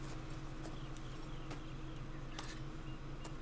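A polka dot horse in Red Dead Redemption 2 walks with soft, steady hoof clip-clops, quiet and unhurried over faint ambient background.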